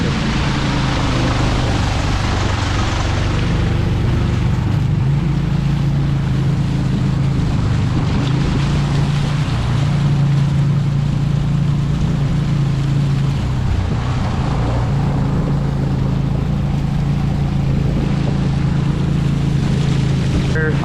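A motorboat's engine drones steadily and loudly during a ride along a canal through hilly country, a constant low rumble with water wash and no break for the whole stretch.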